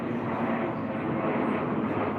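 A fixed-wing plane drones overhead in a continuous, even roar, fairly loud and unbroken, alone without talk.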